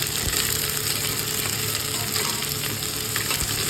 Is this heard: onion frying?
yes